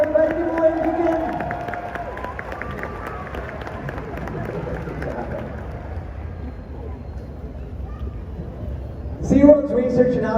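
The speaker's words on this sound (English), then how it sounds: "how about we give our volunteers a huge round of applause?" An audience at a SeaWorld Orlando whale show claps and cheers for the volunteers, a broad wash of crowd applause that gradually fades, then a short louder burst of cheering near the end.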